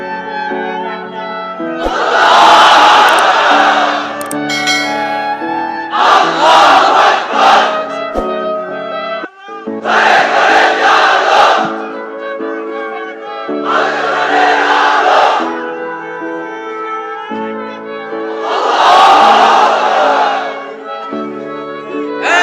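A large crowd of unmarried men at a religious gathering roars a takbir chant in unison, five long loud swelling shouts separated by brief gaps, over a humming public-address system.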